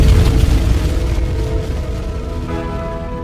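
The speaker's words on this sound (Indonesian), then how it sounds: "Bintang akan runtuh oleh gravitasinya sendiri dan meledak menjadi hypernova." An explosion sound effect for a star collapsing into a hypernova, a deep, rumbling boom that starts loud and slowly fades with a low, sustained tonal drone, heard alone without speech.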